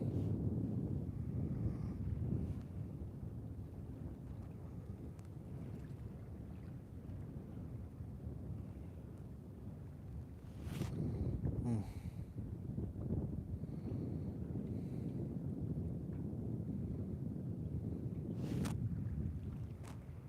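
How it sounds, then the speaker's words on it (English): Wind gusts across Lake Moultrie during a catfishing outing, a constant low rumble buffeting the microphone with a few stronger blasts along the way and no talking. "That wind definitely makes it cooler than it was earlier."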